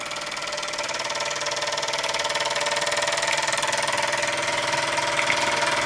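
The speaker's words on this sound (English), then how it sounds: "The Luton Bowman PW201. After its pretty basic restoration, running like a Swiss watch." A Luton Bowman PW201 model steam engine, freshly restored, runs steadily and close by, giving a continuous mechanical whir with a fast, even rhythm and no talk over it.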